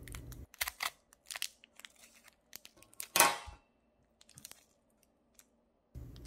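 Chestnut scissors cut through the hard plastic packaging of an Ecover dishwasher detergent tablet, giving a few close, quiet crunches and snips with one sharp crack in the middle.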